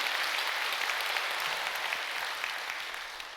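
A congregation at a peace blessing ceremony in a church gives sustained, even applause, a dense wash of many hands clapping that fades slightly toward the end, with no speech over it.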